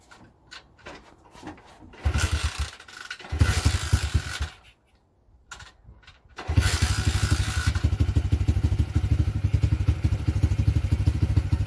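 A cheap Chinese pit bike kick-started with several clattering kicks and thumps, then the small engine catching and settling into a steady, close, buzzing idle.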